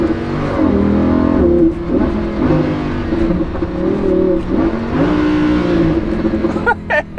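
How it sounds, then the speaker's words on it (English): A Lamborghini Huracan engine revs loudly and continuously up close, its pitch rising and dropping as the transmission blips through a double downshift. "That was a double downshift."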